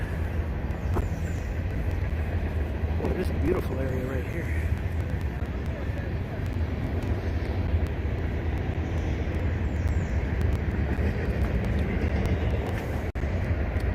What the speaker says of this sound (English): There must be a train track along here because I hear a train.